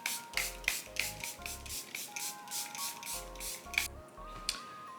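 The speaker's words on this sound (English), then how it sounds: "now I'm gonna spray in my face again" A makeup setting spray is misted onto a face in a series of short, close hissing bursts in two quick groups, with light clicks and faint rubbing between them.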